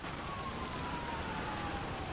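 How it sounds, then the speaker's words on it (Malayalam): Steady rain falls in a continuous, even hiss that holds at one level throughout, with no voices over it. "മഴ ഇങ്ങനെ പെയ്യുന്നുണ്ടോ?"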